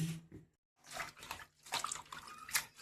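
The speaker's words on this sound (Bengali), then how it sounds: "পাতা এখন বাটা করবো। ভালো করে ধুয়ে নি" Thankuni leaves being washed by hand in a bowl of water, with close splashing and sloshing in uneven bursts, one brief pause of silence, then continuous swishing and dripping.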